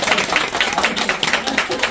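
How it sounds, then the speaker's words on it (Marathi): A gathering of the Marathi community in Australia breaks into dense, steady applause, many hands clapping together in a close, bright wash with no pause. "एकदा टाळ्या व्हायला पाहिजे सगळ्यांना."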